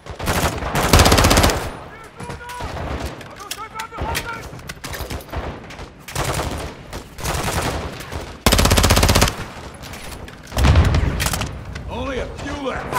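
Automatic gunfire in Call of Duty Modern Warfare 2, several loud close bursts of rapid shots broken by shorter volleys and booms, with voices speaking between the firing.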